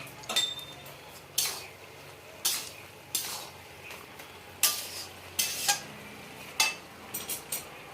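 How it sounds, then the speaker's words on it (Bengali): A utensil stirring a thick curry of fresh greens, Malabar spinach and prawns in a pan, giving a series of sharp metallic scrapes and clinks in an irregular rhythm, close and fairly loud, with a faint sizzle between strokes. "ভালো করে নাড়াচাড়া করে দিচ্ছি"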